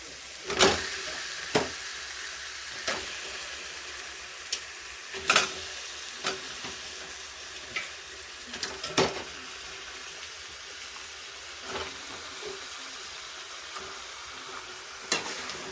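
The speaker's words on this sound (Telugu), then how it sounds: "ఇప్పుడు మనం కడిగి పెట్టుకున్న ఫిష్ పీసెస్ని ఇందులో వేసేయాలి." Washed fish pieces drop into frying masala paste for a fish curry, followed by sharp intermittent clacks and scrapes of a spoon against the pan over a low, steady sizzle, close and quiet.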